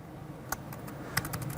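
A few quick keystrokes on a computer keyboard as a command is typed, soft clicks in two short bursts over a faint steady room hum.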